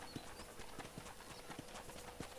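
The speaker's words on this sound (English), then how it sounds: "let's see if you can still ride a horse" Horse hooves clip-clopping at a steady walking rhythm while riding in the game Red Dead Redemption, regular crisp knocks about every fifth of a second over a soft ambient background.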